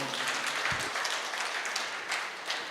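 An audience applauds at a meditation gathering, a dense continuous patter of many hands clapping at moderate distance, steady throughout with no other voices standing out.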